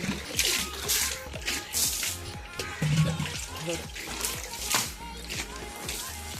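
Water splashing and slapping onto a hard floor in repeated bursts, with scraping and trickling between throws, close by.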